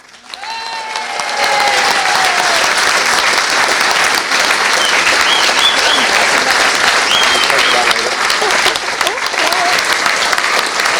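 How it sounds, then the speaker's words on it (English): A large crowd at a live show at Vale Park bursts into loud, sustained applause after a brief voice, the clapping steady and dense until the end. "Big round of applause for you from Mike Bagley."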